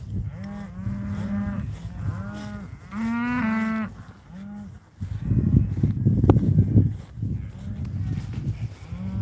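Cattle on a ranch, heard from horseback, give several deep moos in a row, some close and some farther off. Other moos overlap them, and a rougher, noisier bellow comes in the middle.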